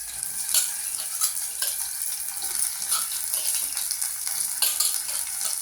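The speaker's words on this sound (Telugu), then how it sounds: "ఇక నూనెలో మంచిగా గోలుతుంది." Pieces of spiny gourd and onion fry in hot oil, giving a steady bright sizzle and crackle with occasional sharper pops and soft stirring, close by and without speech.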